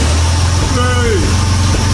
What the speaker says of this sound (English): Fire it up, Dan.